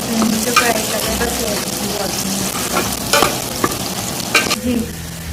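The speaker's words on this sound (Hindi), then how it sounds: "इसमें मिर्ची भी हम प्याज में जल्दी डाल देते हैं" Onions and green chilies fry in hot oil, a steady close sizzle broken by repeated scraping and clinking as a spoon stirs the pan.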